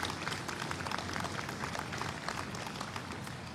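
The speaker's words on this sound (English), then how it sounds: "I would just ask you for a round of applause for these exceptional Army families." A large audience at an Army change of command ceremony applauds Army families, steady dense clapping that stays even and fairly distant throughout.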